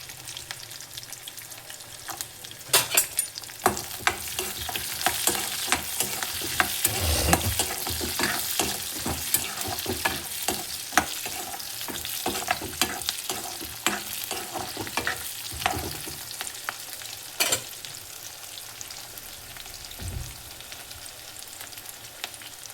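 Fifteen cloves of garlic and fifteen small onions sauté in a hot pan for a Tamil vathal kuzhambu, a steady close sizzle with frequent scraping clicks of a stirring spoon and no talk.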